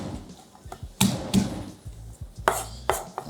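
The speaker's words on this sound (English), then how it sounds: "Also going in with 3 cloves of garlic. Just give them a quick smash." Garlic cloves smashed on a cutting board for a stewed tuna dish, a few sharp thuds and knocks spaced unevenly, close and loud with no talk.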